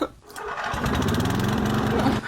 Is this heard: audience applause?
no